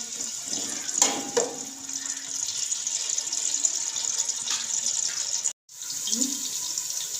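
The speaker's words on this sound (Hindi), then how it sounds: "ऑयल हमारा गर्म हो गया। इसके अंदर 1 मीडियम साइज़ की मैं प्याज डाल दूँगी।" A medium onion frying in hot oil gives a steady, close sizzling hiss that continues evenly, cuts out for a brief moment and then resumes.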